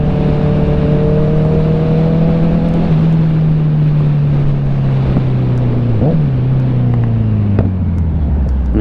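A Kawasaki Z900 motorcycle fitted with a CS Racing exhaust revs up and shifts gears, its loud engine drone sliding down in pitch between shifts, heard close and continuous.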